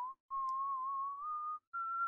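A person whistles a TV theme tune, a single steady melodic line in three phrases with short pauses between them, clear and close with no other sounds.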